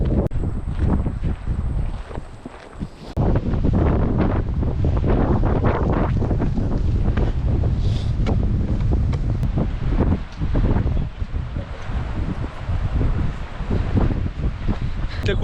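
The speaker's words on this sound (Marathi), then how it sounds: "ते खूपच सोसाट्याचा वारा आहे." Strong, gusty wind buffets the microphone on a rainy hike near Wanaka on New Zealand's South Island, a loud, continuous roar that swells in repeated gusts with a brief lull early on.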